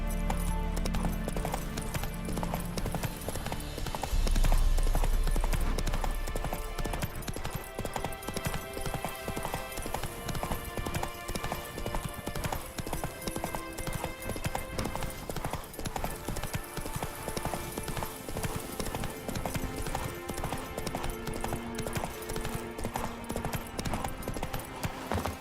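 Roach the horse trots through the world of the Witcher 3 video game, with hooves clip-clopping in a steady, even rhythm for the whole stretch over a dense, continuous game soundscape.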